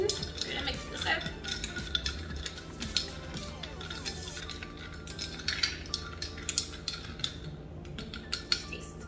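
A long Nespresso spoon stirs iced coffee in a glass, making quiet, rapid clinks and scrapes with ice rattling in an uneven rhythm throughout, faint and close.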